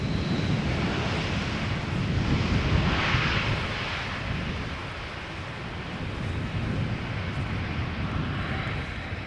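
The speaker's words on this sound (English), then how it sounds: "Top Air Portugal, A321neo having arrived from Lisbon" A TAP Air Portugal Airbus A321neo arriving from Lisbon at Schiphol Airport gives a loud, steady, broad jet roar that swells slightly and then eases, with some wind buffeting on the microphone.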